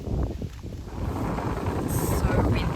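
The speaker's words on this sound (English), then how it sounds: "It's so windy here tonight that I'm really struggling to cook any dinner." Strong gusty wind at a night campsite in Tasmania buffets the microphone with a dense, rumbling roar that continues throughout, with no talking.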